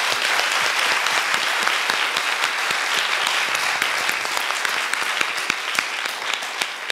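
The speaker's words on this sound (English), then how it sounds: "I think she deserves another round of applause." An audience at a lecture hall gives sustained applause for Noeleen Heyzer, a dense, steady wash of many hands clapping that continues for several seconds.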